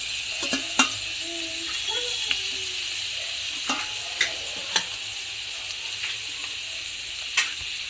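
Tomatoes sizzle steadily in a pan while being cooked for crab curry, with a continuous frying hiss broken by scattered sharp clinks and taps from stirring, close and fairly loud throughout.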